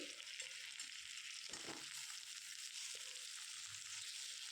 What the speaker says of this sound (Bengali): তো আমি মূলোগুলোকে এভাবে একটা একটা করে উল্টে উল্টে ভাজছি সবগুলো যাতে সমানভাবে ভাজা হয়